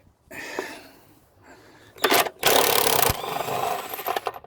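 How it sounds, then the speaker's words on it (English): A power drill grinds off a leftover metal piece on an upside-down Ford FG XR6 in short bursts, then in a longer harsh whine. It is close and fairly loud with no voices. "Let's just see if this drill will take the remainder off."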